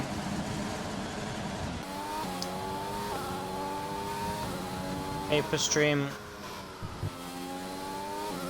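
Race cars from an F2 racing video game roar across the finish line at the Chinese Grand Prix, engine tones climbing and shifting steadily with brief higher squeals, running continuously beneath a commentator's talk.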